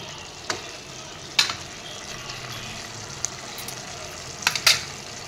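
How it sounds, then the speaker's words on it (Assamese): Meat fries in a pan and is turned over and stirred, giving a steady close sizzle with a few sharp scraping knocks of the utensil, and no talk. "মই এনেদৰে মাংসখিনি তলপৰ কৰি লৰাই দিলোঁ"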